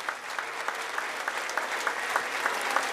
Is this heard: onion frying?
no